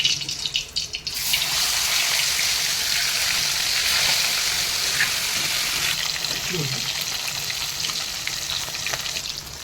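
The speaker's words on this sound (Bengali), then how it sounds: "এই আমার মাছগুলো মজমজে করে ভাজা হয়ে গেছে" Koi fish frying in hot oil, a loud, steady broadband sizzle that swells after a brief quieter start and holds evenly throughout, with a faint spatula scrape partway through.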